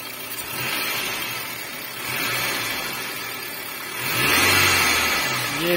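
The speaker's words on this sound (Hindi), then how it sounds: "इसका इंजन का साउंड।" A 2013 Suzuki Cultus petrol engine in good condition revved repeatedly from idle, three rising surges of mid-pitched engine roar close by, the last and loudest climbing higher before easing off.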